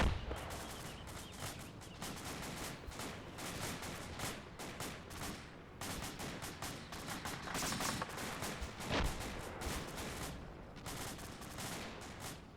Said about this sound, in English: I hear a machine gun off to my right. I'm assuming that's a friendly with, like an M249 or something.